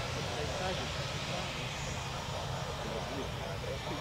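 A Boeing C-17 cargo plane lands at the 2011 Waddington Air Show, its jet engines a loud, broad, continuous roar heard from a distance with wind and crowd noise mixed in.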